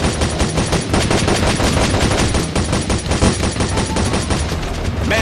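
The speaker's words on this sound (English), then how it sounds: "I need a man on that machine gun." Sustained machine gun fire in the video game Modern Combat Sandstorm, a dense rapid burst of loud close shots continuing without pause for several seconds.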